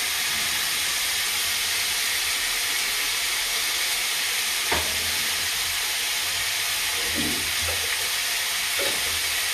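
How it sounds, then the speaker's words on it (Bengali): Ground turmeric, chili and cumin frying for a cauliflower curry fill a pan with a steady loud sizzle and hiss, broken by a few scraping stirs. "নাড়াচাড়া করে নেবো, একটু কষিয়ে নেবো নেড়ে নেড়ে"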